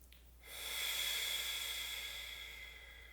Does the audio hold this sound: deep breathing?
yes